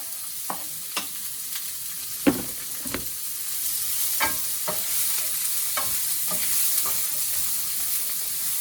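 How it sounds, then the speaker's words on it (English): Onions sizzle steadily in a pan with browned chicken, with occasional sharp clicks and scrapes of stirring throughout. "now I'll add the onions and in a minute the garlic into the pan"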